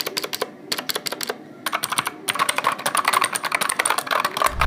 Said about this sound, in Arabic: الكيبورد اللي معانا النهارده هو تي ديجر TGK 313، وبالتحديد نسخه البلو سويتشز